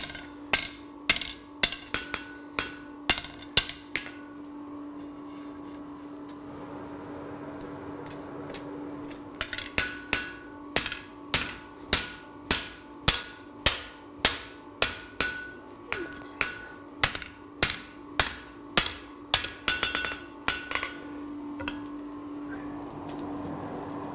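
Steady, ringing hammer blows on hot forged iron during work on a metal horse sculpture, a long regular run of close, sharp strikes with a brief pause early on and no talking.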